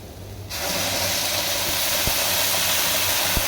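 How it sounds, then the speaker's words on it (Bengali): Water is poured into frying khichuri ingredients, setting off a sudden loud hiss after a quiet start that then holds as a steady, strong steam sizzle with a couple of faint knocks, and no talking. "এখন আমি পানিটা ঢেলে দেবো"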